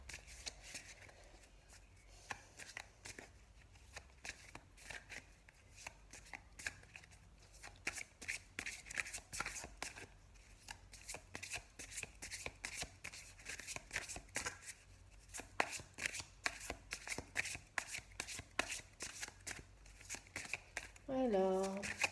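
Tarot cards being shuffled by hand, a long run of rapid riffling flutters and soft slaps, close and moderately loud, in a steady rhythm with brief pauses and no talk.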